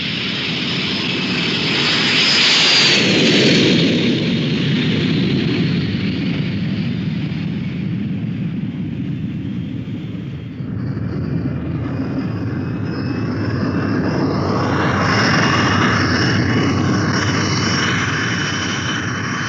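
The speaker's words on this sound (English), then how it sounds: "Approaching touchdown, over touchdown now. Take over visually and land your airplane." A military training airplane approaches and touches down on a runway, its engine roar loud and steady for most of the stretch, dipping briefly near the middle before building again with a rising whine.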